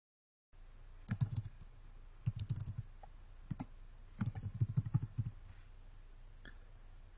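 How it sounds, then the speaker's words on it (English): Keys clack on a computer keyboard in short bursts of quick typing separated by brief pauses, close and fairly quiet with no voices. "and type the alpha name."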